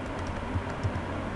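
Quick, soft key taps on a computer keyboard as a name is typed, a brief run of faint clicks over a low steady room hum.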